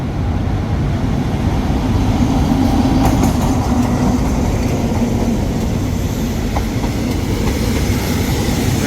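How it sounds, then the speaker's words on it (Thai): A train rolls across the Chulalongkorn railway bridge in Thailand, a loud, steady rumble of wheels and wagons with faint rhythmic clicks and occasional metallic taps, no voices. "รถไฟก็กลับมาวิ่งสะพานเดิม"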